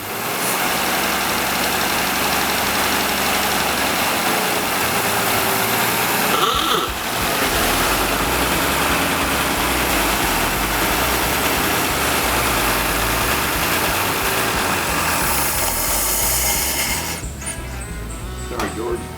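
A 1923 Pierce Arrow Model 33 engine idles steadily with a low, even rumble, close and continuous, throughout the stretch while someone adjusts the carburetor main jet, then fades slightly at the end, with voices talking over it.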